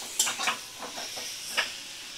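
Eggs cooking with spices in a pan make a soft, close sizzle, broken by a few scraping stir strokes at uneven moments.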